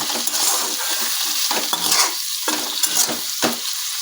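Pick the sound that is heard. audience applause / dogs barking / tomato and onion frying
tomato and onion frying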